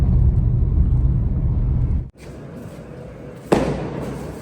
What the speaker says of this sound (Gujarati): બધી જગ્યા છે જો ફટાકડા ફૂટે છે જોરદાર